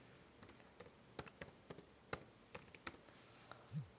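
Quiet, irregular clicking of a computer keyboard being typed on, with soft individual keystrokes spread unevenly across a few seconds and no voice.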